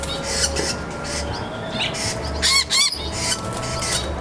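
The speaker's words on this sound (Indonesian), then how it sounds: "ini kita keluarin burung Blueface-nya" A Blueface bird in an aviary gives sharp, loud squawks and chirps in short bursts over a background of other birds and rustling.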